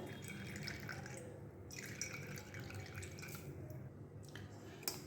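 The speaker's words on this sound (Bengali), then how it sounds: "দেখো এই যে আমি এবার চাপ দিয়ে বের করছি এইভাবে সবটা বের করে নেবো জলটা" Water squeezed out of grated raw green mango, dripping and trickling close by in quiet bursts over a low background hum.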